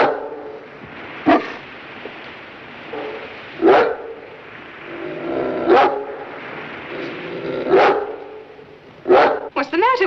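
A dog barks in single sharp yaps, about six of them spread unevenly over ten seconds, each loud and close, with fainter sounds between them.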